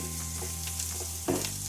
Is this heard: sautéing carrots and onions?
yes